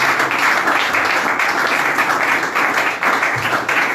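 A church congregation applauding during a Sunday service, dense steady clapping that fills the room continuously for several seconds without pause.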